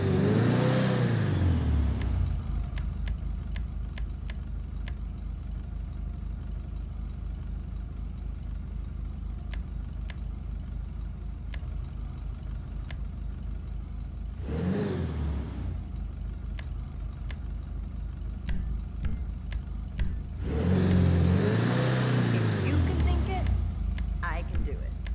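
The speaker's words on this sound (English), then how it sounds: "This is the kind of engine I like to work on." Declasse Impaler SZ, modeled on a 1994–96 Chevy Impala SS, in GTA 5: a low engine rumble runs throughout, swelling into loud revs at the start, midway and near the end, while people talk over it.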